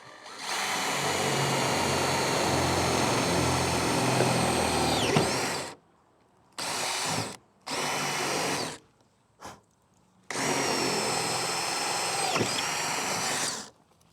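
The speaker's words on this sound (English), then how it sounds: "So we just want to drill 5/16 hole," Power drill boring a 5/16 hole through a kayak crossbar for side landing-gear wheels on a Hobie Outback: a loud, close, steady whine for about six seconds, then three short bursts and a final long run.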